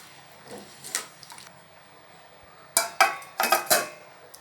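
A metal plate set down over a pot of black chickpea curry with vegetables, giving a few scattered clinks and then a cluster of sharp, close ceramic-and-metal clatters near the end.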